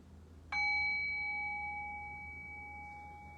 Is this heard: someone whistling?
no